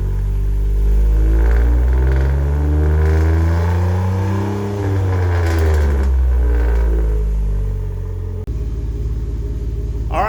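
A 2011 Jeep JKU with a K&N intake and new muffler revs repeatedly, its loud deep exhaust rumble rising and falling in pitch and then settling into a lower idle.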